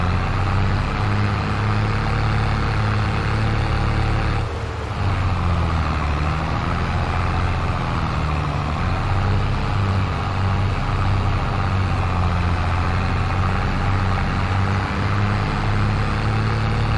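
Tractor engine driving in Farming Simulator 22 on the Pioneer map, a steady loud low drone with a constant hum that briefly dips, then continues unbroken.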